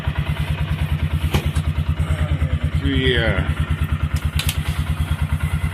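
A cold engine idling with the choke on in a four-wheel-drive snow-blowing machine, chugging in a steady, rapid, loud rhythm while someone speaks over it.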